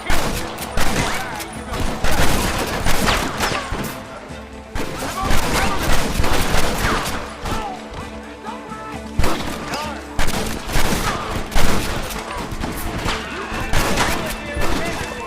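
Heavy gunfire in the western game Red Dead Redemption, a sustained barrage of loud overlapping shots and crashing impacts, with shouting voices mixed into the firefight.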